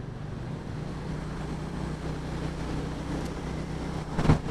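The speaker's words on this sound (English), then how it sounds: "I think it's revving higher." A Royal Enfield Classic 350 or Bullet 500 single-cylinder motorcycle drones while riding, a steady low engine hum under wind rush, with a brief louder burst near the end.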